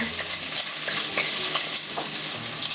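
Onions frying in a pan over medium-high heat for an eggplant curry, with a steady bright sizzle and repeated close stirring scrapes and utensil taps, and no voices.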